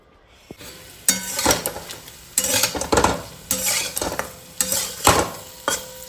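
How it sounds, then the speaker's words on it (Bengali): Paneer frying in a pan at home, with repeated bursts of sizzling and the scrape of a spatula stirring, loud and close, in rhythmic surges separated by brief quieter moments. "পনিরটা ভাজা হয়ে গেল"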